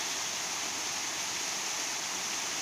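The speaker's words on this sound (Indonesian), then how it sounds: "air terjun dan anak-anak sungai yang" Seasonal waterfall and small streams pouring down from karst hills at Gunung Sewu, Pacitan, a steady broadband rush of falling and flowing water, constant and fairly close, with no voices.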